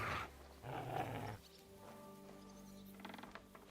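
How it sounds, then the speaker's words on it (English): A wild dog growls in the medieval video game Kingdom Come: Deliverance II. Low rumbling snarls come in two bursts, then quieter tonal game sounds follow, at moderate level. "Help! There's a wild dog here!"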